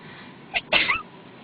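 One person's sneeze, a short preparatory breath followed by a sharp explosive burst, close and clear against a quiet background.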